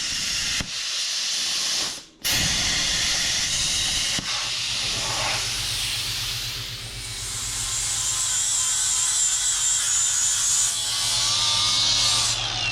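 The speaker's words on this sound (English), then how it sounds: "I'm gonna fire the plasma cutter up and just take the corner of that off right there" A plasma cutter trims off a metal corner during truck upgrades on a Toyota Taco, a loud steady hiss with a low hum underneath that runs almost continuously after one brief early break.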